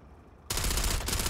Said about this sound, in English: No, I'm shooting at very, very large bugs